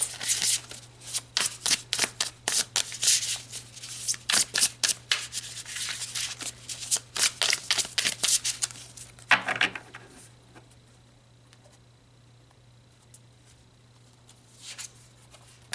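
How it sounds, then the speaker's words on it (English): A deck of tarot cards is shuffled close up in quick repeated riffling bursts for about nine seconds, followed by a brief rustle and then near quiet with a faint steady hum underneath. "Let's pull some tarot and see what else comes out."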